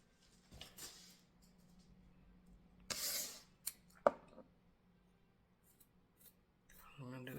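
Scissors snipping around a yarn pompom, a few scattered quiet cuts and rustles with gaps between them, close up and faint.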